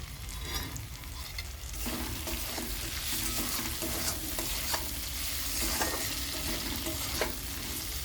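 Rice frying with boiled potato in a pan, a steady loud sizzle with continuous scraping and stirring strokes close up, no voices.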